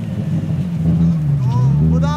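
A car's engine idles and rumbles low and steady, then revs up near the end as it pulls away for a drift run, with people talking over it.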